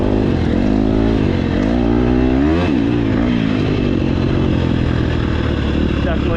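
A KTM 250SX-F motocross motorcycle engine on its first ride, loud and close, droning and revving with rising and falling pitch and a clattering edge throughout.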